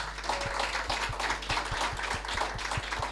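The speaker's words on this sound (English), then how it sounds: "I'll be grateful if you would all join me in giving her a welcome clap." Sparse, steady clapping from an audience welcoming a guest at a memorial lecture in Dominica, a fairly quiet run of individual claps at a regular rhythm over room noise.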